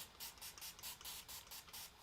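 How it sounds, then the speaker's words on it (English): A Best Press spray bottle mists quilting fabric from the back side, giving a quick series of about eight short, sharp hissing spritzes in an even rhythm, close and fairly soft, with no talking. "Okay, I like to spray from the back side."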